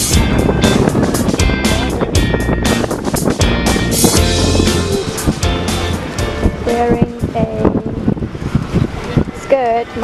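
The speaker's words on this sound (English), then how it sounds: "It's so windy." Strong wind buffeting the microphone on a beach at Brighton, loud continuous rumble and gusts with surf in the background.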